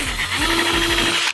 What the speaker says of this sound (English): Milwaukee drill for the win